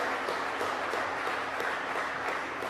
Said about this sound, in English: Big round of applause for the Mayor for joining us today.